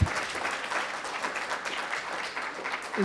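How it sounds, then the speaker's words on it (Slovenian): Audience applause at a Slovenian student awards ceremony for the Maks Samec and Prešeren prizes, a dense steady wash of many hands clapping that holds through the whole stretch. "dajmo še en aplavz za mojo mentorico na diplomi, gospa Zupanova"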